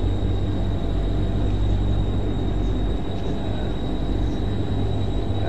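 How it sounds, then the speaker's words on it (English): A passenger train rumbles past close by, a steady loud roar of wheels and carriages with a faint high whine running through it, and no break across the pass. "Passenger train, too."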